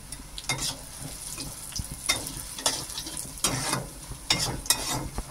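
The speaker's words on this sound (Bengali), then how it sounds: "নারকেলটা তেলের মধ্যে দিলে একটু ভাজা ভাজা হবে" Grated coconut frying in hot oil in a pan, a continuous sizzle broken by repeated scraping stirs of a utensil, close up with no voices.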